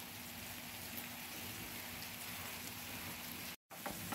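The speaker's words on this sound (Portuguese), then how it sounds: "Tá chovendo aqui, ó." Soft, steady rain falling outside a home, a gentle continuous patter heard from a distance with no voices, briefly cutting out near the end.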